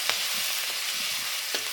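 Green chillies fry in hot oil for sabudana khichdi, making a dense, steady, close hissing sizzle with a couple of brief sharper crackles.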